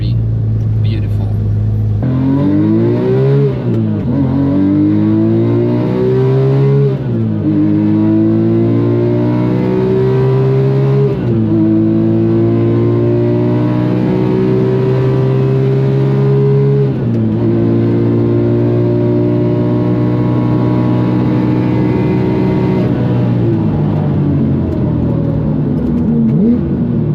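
Porsche 997 GT3 RS flat-six on the Nürburgring, loud and close, revving hard through repeated upshifts, each gear climbing in pitch before dropping, with a steady sustained wail throughout.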